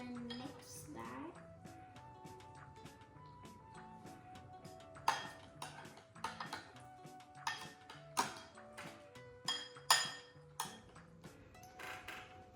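Spoon clinking and scraping against a bowl while mixing chocolate chip cookie dough dip, irregular sharp knocks that grow louder and more frequent toward the end, with soft background music and no talk.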